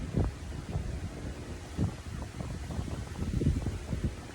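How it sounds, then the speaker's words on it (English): Gusty wind buffeting an outdoor microphone on a Florida afternoon, low rumbling pushes that swell and fade in irregular waves. "Here comes the wind again."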